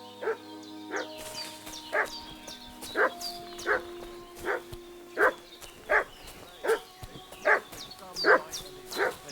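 A dog barks repeatedly in Kingdom Come: Deliverance II, about ten evenly spaced, fairly loud barks at a moderate distance, heard alone without speech.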